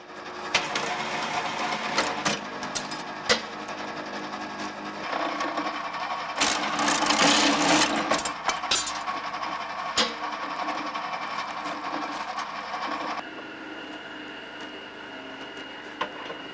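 BOBR cable stripping machine running, a continuous mechanical whir with repeated sharp clicks and clatter throughout, fairly loud and close, with no talking.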